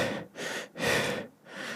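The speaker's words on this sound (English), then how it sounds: "Breathing." Slow, close breathing from under a bed, quiet and hushed, with about three drawn-out breaths that swell and fade in a steady rhythm.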